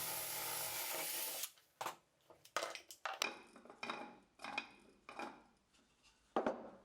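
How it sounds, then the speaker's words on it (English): Drill boring a hole through wood with a scrap piece clamped beneath to stop tear-out, while building a wooden zoetrope with gears; a loud steady whir opens, then a series of short clattering bursts and knocks follows. "To drill the hole without tear out, I have clamped a scrap piece underneath."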